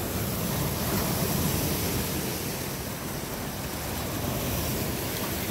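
Waves breaking on a sandy Lake Michigan beach, a steady loud wash of surf with wind noise on the microphone, continuous and close with no pauses.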